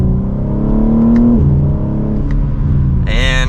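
A 2024 BMW M3 Competition accelerates hard in second gear, its exhaust rising in pitch, dipping briefly, then climbing again loud and close, with a higher whine toward the end.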